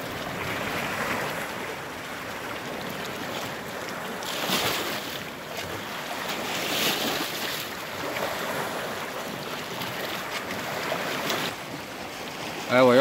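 A tsunami-like sea surge rises at Čikat, heard as a continuous broad wash of moving water with gusty wind buffeting the microphone, fairly loud and steady throughout.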